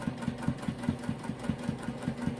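Sewing machine running steadily while stitching a quarter-inch pillowcase seam at a 3.0 stitch length, a fast even mechanical chatter close up with no talking.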